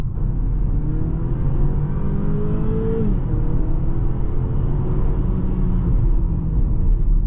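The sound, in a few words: 2023 BMW X4 30i accelerating onto highway in Sport Plus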